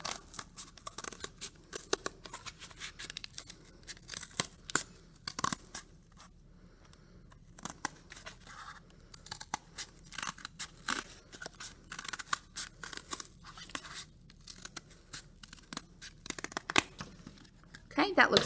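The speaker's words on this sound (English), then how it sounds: "So here I'm going to cut around the circle." Scissors snip around a cardboard circle in a long series of close, crisp cuts with papery crunching and rustling, varying in pace with short pauses.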